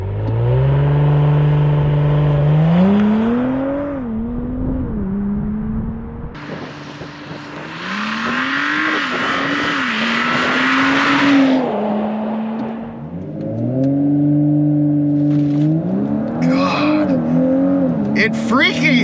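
Tuned Audi B9 S4 on a 93 octane Stage 1 tune launching down a quarter mile, engine note climbing through several gear pulls, loud and close from inside the cabin, with a passing roar midway.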